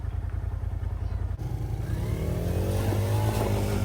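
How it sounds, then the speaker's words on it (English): A Polaris Xpedition side-by-side engine climbs from a low idle rumble into a strong, rising rev under throttle, growling loud and close with no voices. "Pull it back a little bit and give it a little more throttle."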